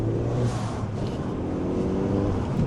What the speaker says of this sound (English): take the car for a drive